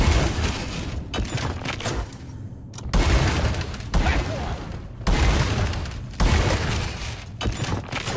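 The engineer's platform gun firing repeatedly in Deep Rock Galactic, loud rushing bursts of gooey spray, each lasting about a second or two, separated by short gaps, close and dominant.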